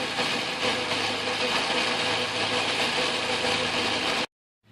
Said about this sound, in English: Quickly facing it off in the lathe.